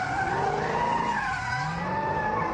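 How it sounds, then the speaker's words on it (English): Street racers' car tires screech continuously while spinning through donuts and burnouts on a city street at night, a loud, sustained wavering squeal with engine rumble underneath, no talking. "The sounds of donuts and burnouts"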